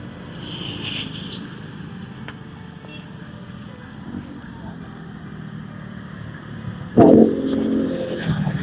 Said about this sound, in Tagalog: Tricycle, paparahin natin.